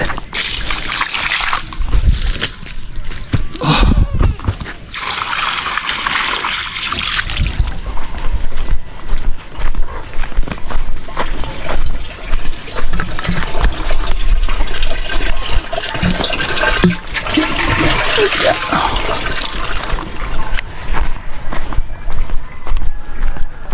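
Water is poured into a drinking container for goats on a small farm, with splashing and filling sounds mixed with footsteps and handling noises, loud and close, continuing in uneven bursts for over twenty seconds.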